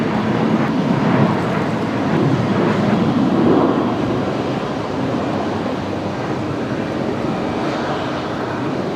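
Velocity flight 342, a Boeing 737-700 bound for Melbourne, roars steadily as broadband jet engine noise at night at Brisbane Airport, loud and sustained throughout with no talk.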